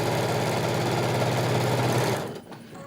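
A sewing machine runs steadily, stitching all the way around the edge of a fabric piece, with a loud continuous mechanical whir that cuts off near the end.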